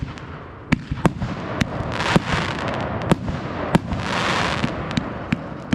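New Year's fireworks burst repeatedly at a moderate distance, sharp cracks and pops coming in an uneven rapid series over a crackling, hissing background of further explosions.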